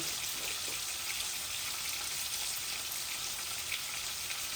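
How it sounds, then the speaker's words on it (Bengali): Cumin seeds tempering in hot oil for a pangas fish curry, a steady bright sizzle and crackle that holds evenly the whole time with no talk over it. "পয়লা বাগারটা দিলাই, আমি এই জিরা দিলাম"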